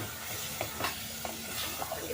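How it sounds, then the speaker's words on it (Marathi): Ground masala paste sautéing for chicken curry in a pan: soft, steady frying sizzle with a few light stirring scrapes, close and fairly quiet, no voices. "व्यवस्थित परतून घेते"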